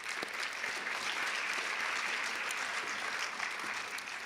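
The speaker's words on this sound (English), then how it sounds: "let's give them a round of applause." Audience at the Miss Provo 2018 pageant gives a steady round of applause for the committee, dense even clapping from a large room that continues throughout.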